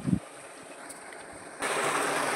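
Water from a pump machine pouring out while a pond is drained near a sluice, a steady broad rushing wash that grows louder and brighter partway through after a brief knock at the start.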